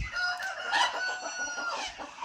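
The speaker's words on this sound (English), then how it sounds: "Here are our cockerels, guys." A cockerel crows clearly nearby on a farm in the Philippines, a long drawn-out call, with other cockerels faintly crowing and clucking in the background.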